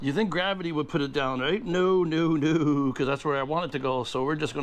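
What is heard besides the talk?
None of the usual background noises is heard.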